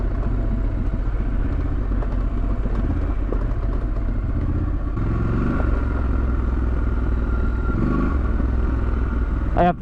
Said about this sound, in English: the Scrambler 12 is such a capable off-road bike